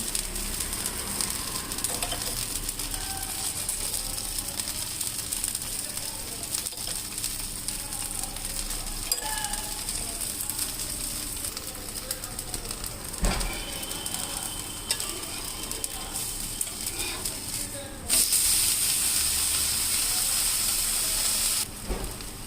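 Mysore dal dosa batter with spring onions cooks in ghee, producing a continuous hissing sizzle for the whole stretch, with occasional clicks and a louder burst of hiss near the end; no voices.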